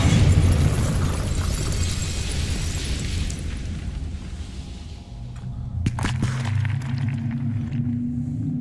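A Bombarda spell blast from Hogwarts Legacy sets off a loud, sustained rumbling explosion that slowly fades, then sharp cracking debris bursts follow, with no voices.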